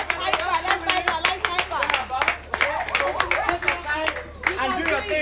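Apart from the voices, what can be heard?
audience clapping for a debate speaker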